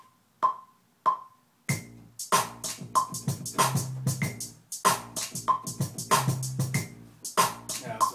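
A simple sub bass line recorded on a Native Instruments Maschine plays as a busy pattern of sharp percussive hits over low bass notes, steady and loud, with no voices.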